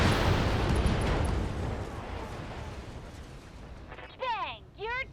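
Mech weapons open fire all at once in an alpha strike in the BattleTech video game. The booming blasts fade into a long rumbling decay, followed near the end by two short sweeping electronic zaps.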